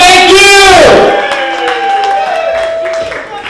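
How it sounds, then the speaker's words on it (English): A comedy show crowd applauds comedian Mario Reyes: a sustained, loud shout of cheering opens the clip, then dissolves into scattered clapping and crowd noise that tails off slightly toward the end. "Let's give another round of applause for Mario Reyes!"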